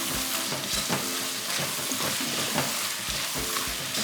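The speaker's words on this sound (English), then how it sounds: "I'm going to add the remaining onions and it's ready. This is just for more crunchiness." Remaining onions frying and sizzling in a pan, a steady broadband crackle with periodic scraping stirs, close and continuous with no talk.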